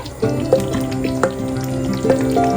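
Chicken marinated in yogurt and salt goes into frying masala, a steady close sizzle with wet spattering and a few louder bursts as the pieces land in the pan.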